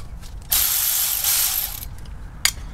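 Milwaukee cordless ratchet with a short 10 mm socket spinning out bolts on a first-generation Toyota 4Runner front axle, a close high whirring buzz lasting over a second, then a brief second burst.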